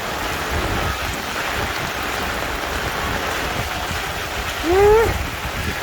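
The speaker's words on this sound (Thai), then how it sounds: "ฝนตกอย่างหนักเลยเจ้าค่ะ" Heavy rain pours steadily in a dense, constant hiss, with a brief high whistling tone near the end.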